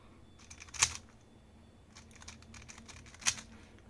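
An XMD Tornado V3 speedcube being turned and corner cut, with quick plastic clicks and rattles up close, two sharper snaps standing out among the softer turning noises, no talking.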